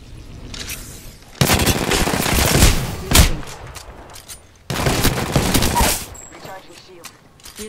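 Two long bursts of close, rapid automatic-pistol fire in Apex Legends, with sharp individual shots between them and quieter gaps, loud and dominant over background game sound.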